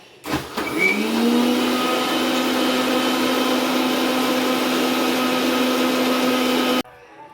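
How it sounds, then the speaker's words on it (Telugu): A mixer grinder spins up with a whining motor, blending an Oreo milkshake, and runs steadily and loudly for several seconds, then cuts off abruptly. "ఇప్పుడు మిక్సీ పడుతున్నాడు దాన్ని"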